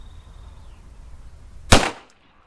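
A single 9mm handgun shot fired across a chronograph at an outdoor range, one sharp loud crack with a short decay and faint background before it.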